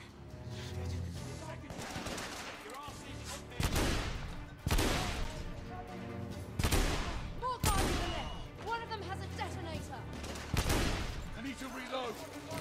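Semi-automatic gunfire in the video game The Order: 1886, with repeated sharp shots in spaced bursts over a busy soundtrack of music and effects, and voices talking at times.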